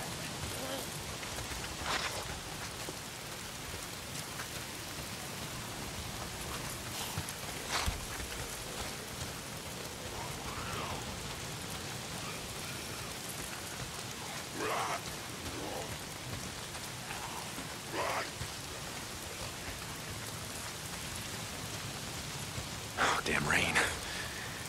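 Rain falls steadily in the video game Days Gone, a constant wash of hiss with scattered louder drips and spatters, heard alone.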